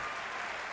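Crowd applause inside the football video game FC 24, a steady wash of clapping that fills the short moment at an even, moderate level with no voices over it.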